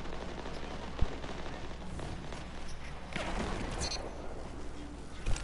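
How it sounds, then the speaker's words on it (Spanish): Gunfire in a PS4 shooter game, a few faint scattered shots and thumps over a low background bed, with one sharper crack early and another at the end. "Cuatro tiros al cuerpo para poder matarla"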